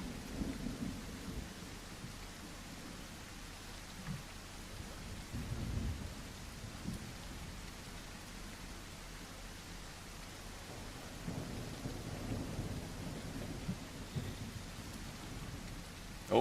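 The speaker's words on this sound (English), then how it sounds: "I thought I heard something big, but it might just be the storm." Steady rain pours in The Isle dinosaur survival game, with low rolling thunder rumbling in and out of the constant hiss, moderately loud and unbroken, no voices.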